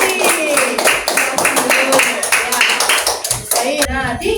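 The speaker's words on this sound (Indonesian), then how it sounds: "Oke, beri tepuk tangan buat kelompok 1 Trimurti." A classroom of students claps for a presenting group, a loud, dense burst of hand claps lasting several seconds, with voices calling out over it near the end.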